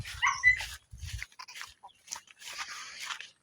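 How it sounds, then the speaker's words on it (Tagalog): A dog at a rural home gives high whimpers and a few short barks in uneven bursts with quiet gaps, nearby and fairly loud, with no talking. "may aso po kami dito."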